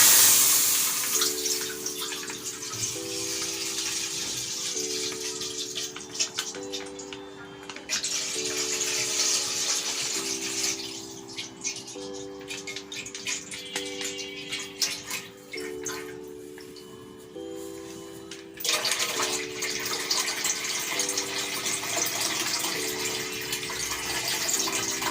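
Liquid pours steadily into a pot on the stove, a continuous splashing, trickling flow that varies in strength and briefly pauses, with gentle background music underneath and no talking.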